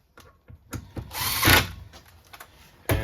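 A power tool with an 11mm socket cinches down bolts on a 1996 Ski-doo Formula SLS snowmobile, giving short whirring bursts with a longer, louder run in the middle and a sharp burst at the end.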